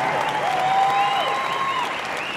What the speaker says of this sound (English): Ladies and gentlemen, big round of applause, both these fighters leaving in the cage to box.